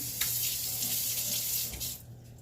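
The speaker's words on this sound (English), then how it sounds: "So let me rinse my spoon again." Water from a kitchen tap runs steadily as a spoon is rinsed under it while chicken chili is being canned, a continuous splashing stream that tapers off near the end with no talking.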